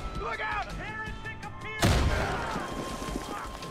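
An explosion in Far Cry 5 bursts loudly about halfway through, a sharp broadband blast with a rumbling tail that fades slowly, following a stretch of voices and game chatter.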